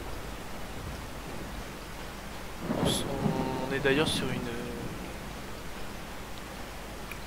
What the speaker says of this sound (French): Alors, on sort, il pleut.